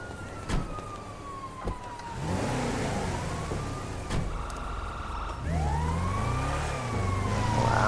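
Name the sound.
ambulance siren passing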